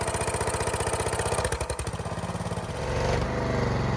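A 1964 Chrysler 300 engine runs just off choke, a loud, close, steady rhythmic chugging idle that roughens briefly in the middle before settling into a fuller, smoother run.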